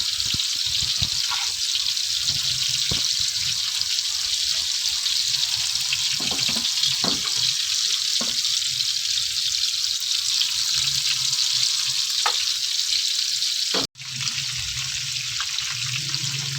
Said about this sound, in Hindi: इसको आपने मीडियम आग पे फ्राई करना है